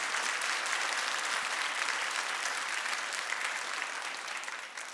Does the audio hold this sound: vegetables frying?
no